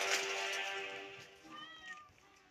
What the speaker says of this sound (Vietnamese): Thì cũng chỉ là mèo thôi mà.